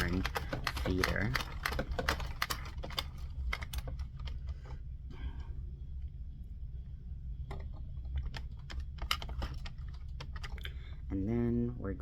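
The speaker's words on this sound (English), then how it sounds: "You're going to go around one full time without anything in your yarn feeder." A knitting machine carriage makes one full round with no yarn in the feeder, giving a rapid series of clicky, clattering taps with a spoken voice over it.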